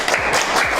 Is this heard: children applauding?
yes